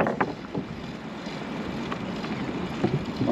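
Wind buffets a microphone outdoors at Coney Island in the early hours, a steady low rumble with gusty surges throughout and a few brief knocks, no talking.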